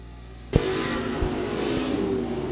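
Race cars roar off at the green flag of the first heat race at 281 Speedway, a sudden loud burst of engines that settles into a sustained, steady roar of several cars racing nearby.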